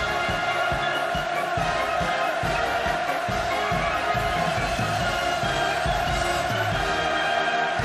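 A huge crowd at a North Korean navy commemoration roars and cheers without pause, a dense wall of shouting with rhythmic surges, steady and loud throughout.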